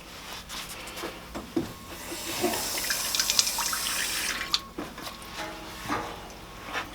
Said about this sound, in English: as I dump that out, get a little extra water here